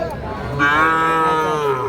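A bull calf at a crowded livestock market gives a single loud, close moo lasting over a second, rising then trailing off against low market noise.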